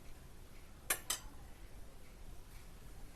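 Spoon against a pot of biryani: two quick metallic clinks close together, fairly faint against a quiet background hiss, with no talk.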